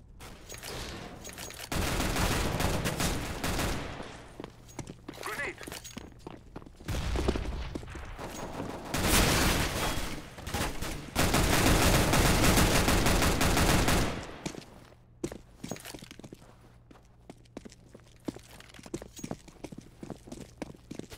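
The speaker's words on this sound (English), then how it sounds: "Covering fire." Counter-Strike: Global Offensive gunfire rattles in long, loud automatic bursts with brief pauses between them, then thins out to scattered shots and quieter footsteps toward the end.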